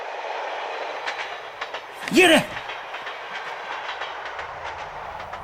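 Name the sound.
train passing on rails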